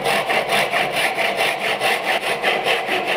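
A hand saw cuts a 45-degree mitre kerf down a wooden tenon for a bridle joint, giving quick, even back-and-forth rasping strokes, about a dozen in a few seconds, close up with no talking.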